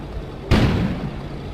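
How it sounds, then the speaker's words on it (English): Explosion sound effect outside in an animated episode, a single abrupt burst that hits hard and then decays into a rumbling wash lasting about a second. "An explosion suddenly occurred outside."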